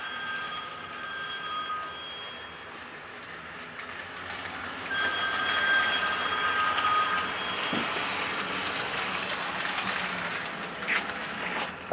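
A small HO scale model train runs along hand-laid track with light clicking and a whirring motor, joined by a high electronic ringing tone, fairly quiet overall.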